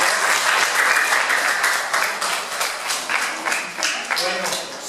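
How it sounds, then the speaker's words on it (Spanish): An audience applauds at an exhibition of historical posters in a former convent, brisk clapping that gradually thins into scattered claps, with some voices mixed in. "Fuertes aplausos a los señores."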